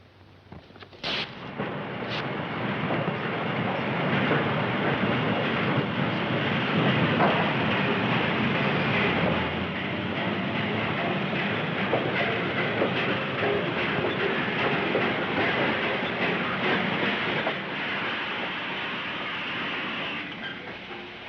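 Train noise at a railway station in Cannes in a 1945 film scene: a sustained, loud rumbling roar of rail cars with a sharp hiss or burst near the start, steady throughout and no voices.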